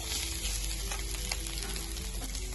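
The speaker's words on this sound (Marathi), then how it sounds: "आता आपण हे 10 मिनिटासाठी छान परतवून घेऊया" Smashed potato sautéing in a pan for a fasting dosa filling, a steady close sizzle and fry hiss running evenly throughout.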